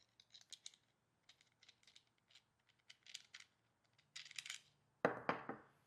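A metal wing nut being handled and set down into a tray, a series of light, sparse metallic clicks and scrapes with pauses between them, ending in a sharper clatter as it lands, close and quiet.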